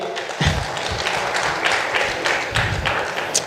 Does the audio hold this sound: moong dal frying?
no